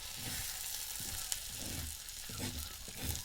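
A wild leafy vegetable seasoned with chili powder and salt fries in a pan with a continuous soft sizzle, broken by intermittent scraping strokes as it is stirred.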